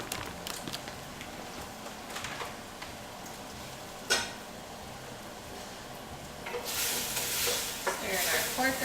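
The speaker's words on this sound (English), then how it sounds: "Stir in our pork around." Pork being stirred in a pan while cooking homemade chicken ramen, with a steady sizzle, scraping stirs and a sharp clink partway through, the frying growing louder toward the end, close up and without talk.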